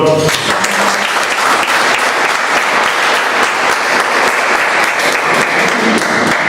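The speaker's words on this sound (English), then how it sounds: "I would like to applaud for" An audience at a Bombay Toastmasters Club meeting applauds, a steady, dense wash of clapping that holds loud and even throughout.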